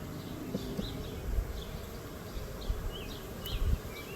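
Honeybees buzzing softly around an open Layens hive during a weekly inspection outdoors, a steady low drone with individual bees passing close now and then, with faint handling thumps.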